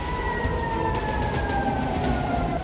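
Sirens wail in Tel Aviv during a Hezbollah drone attack, a loud sustained warning tone that slowly falls in pitch over a constant city rumble.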